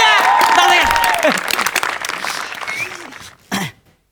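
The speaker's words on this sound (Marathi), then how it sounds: "जोरदार टाळ्या वाजवून द्या" At a comedy-show political rally, the audience claps loudly and densely at first. The applause thins into scattered claps, a voice and a cough come through, and one short final burst ends in quiet.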